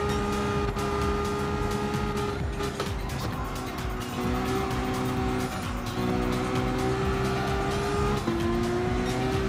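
Racing cars in the Gran Turismo video game drone steadily at full throttle, their engine tones rising and shifting through gear changes, with scattered tire squeal throughout a continuous, loud lap.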